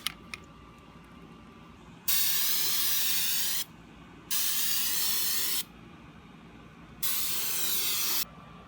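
Rubberized coating sprays onto the outside of a new rear differential cover on a Trailblazer/Envoy, three loud, close aerosol hisses of one to two seconds each, separated by short pauses.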